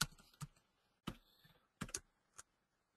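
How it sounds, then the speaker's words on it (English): A few short bursts of quiet keystrokes on a computer keyboard, separated by pauses, soft and close with no talking. "Just type these in for you so you have them."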